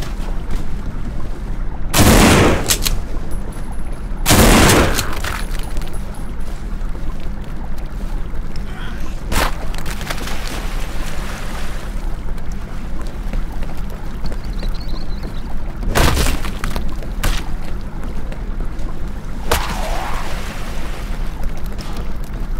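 Several loud gunshots ring out in the zombie survival game No More Room in Hell, spaced irregularly across the stretch with long gaps, each a sharp broadband crack over a steady low ambient hum.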